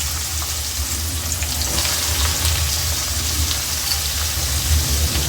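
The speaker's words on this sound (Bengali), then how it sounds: "আমি পেঁয়াজ পাতাগুলোকে ভেজে নেব" Spring onion leaves fry loudly in oil in a kadai, giving a strong, constant hiss and crackle up close, with no talking.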